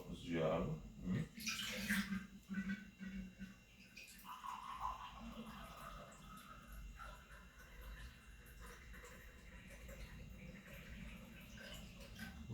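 Two cups of water poured into a pot at home for making coffee, a splashing, gurgling pour near the start that tails off into quieter water and kitchen noise, with someone talking throughout.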